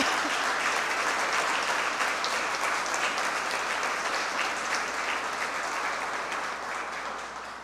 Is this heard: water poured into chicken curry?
no